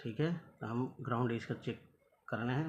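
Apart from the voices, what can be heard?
No everyday noises stand out.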